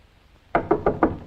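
Someone knocks on a wooden door four times in an evenly spaced sequence, close and loud, after a quiet moment, in a 1952 comedy film.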